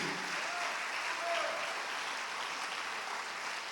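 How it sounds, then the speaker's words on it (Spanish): A church congregation at a Sunday service claps together in steady, sustained applause that fills the room from start to finish, with a faint voice calling out beneath it. "Alguien déle un fuerte aplauso a nuestro Dios."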